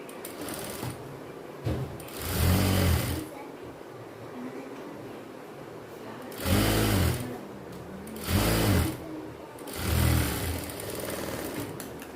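A sewing machine stitches a folded one-inch hem on silk skirt fabric for a girl's pavadai, running in short motor bursts separated by pauses and quiet handling, close and loud.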